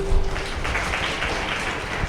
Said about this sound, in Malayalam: നമുക്കൊന്ന് കൈയടിക്കാം.